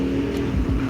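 A motorcycle engine idling or running close by, a steady low rumble with loud sustained energy throughout the second, no talk over it.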